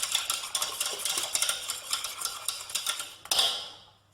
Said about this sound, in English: Once the stock's been amalgamated, you can stir it a little bit more vigorously.